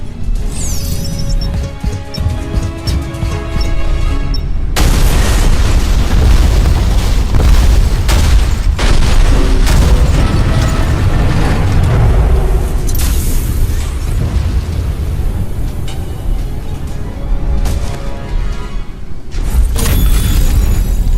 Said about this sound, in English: Since you blew up the pumping station corridors